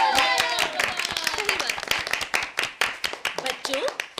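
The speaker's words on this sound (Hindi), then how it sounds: "एक बार तालियां बजा दीजिए।" An audience claps for a children's storytelling group, sharp separate hand claps in an irregular patter that thins toward the end, with voices talking over them.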